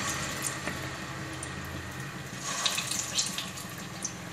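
Unnakkaya, Malabar banana dumplings, frying in hot oil, a continuous hiss and sizzle with scattered crackles and pops growing busier toward the end, close and with no speech.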